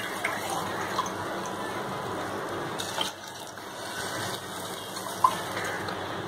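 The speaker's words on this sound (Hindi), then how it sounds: "पानी डालूंगी।" Water pours steadily into a pot of rice frying in oil at moderate distance, a soft continuous splashing with a brief dip midway and a few small clinks.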